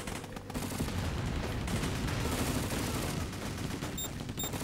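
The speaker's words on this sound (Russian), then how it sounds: "Пока вражеские войска отвлекают наши соединения, по ним стреляет артиллерия." Dense, continuous gunfire and artillery fire rattle through a battle in the strategy video game Crisis, rapid shots overlapping without pause at steady loudness.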